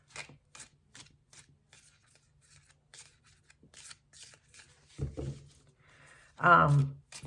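Tea leaf oracle cards being shuffled by hand, soft papery riffles and flicks repeating steadily and close, with a louder rustling burst near the end.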